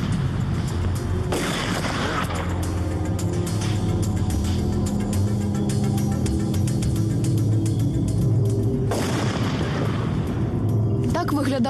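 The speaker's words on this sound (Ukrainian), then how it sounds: "Так виглядав би вибух лише 10 грамів саморобної вибухівки." A blast from 10 grams of homemade explosive gives two sharp, loud booms several seconds apart, each with a broad burst of noise, over a constant rumbling background.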